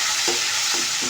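Food sizzles steadily in a hot pan with curry leaves while a spoon stirs it, with a few distinct scraping strokes spaced across the close, continuous frying hiss.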